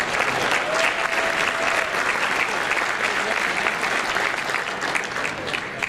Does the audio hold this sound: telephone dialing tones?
no